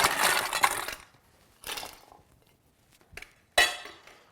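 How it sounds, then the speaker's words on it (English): Ice is packed into a metal cocktail shaker tin holding lime juice, sweet vermouth, Campari and rye whiskey, coming as several loud, close rattling crashes of cubes with brief pauses between scoops. "We're gonna pack this full of ice."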